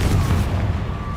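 A Confringo blasting spell goes off in the Hogwarts Legacy video game, a loud booming burst with a heavy low rumble that holds steady for about a second, no talking over it.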